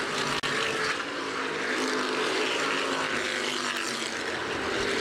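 Stock cars roar together at Winchester Speedway as a CRA Street Stock field takes the green flag, a loud, dense, continuous engine drone filling the whole stretch with no talk over it.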